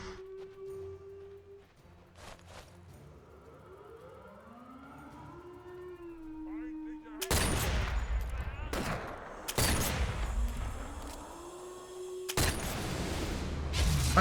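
Sniper rifle shots ring out in the Sniper Elite VR game, several loud, sharp reports spaced a few seconds apart over a rising siren wail and battlefield ambience, with no talking.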